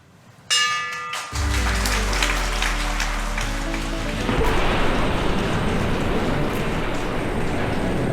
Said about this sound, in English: we would like to invite Mrs. Tam, accompanied by Professor Zhang, to ring the bell in order to share the joy with all of us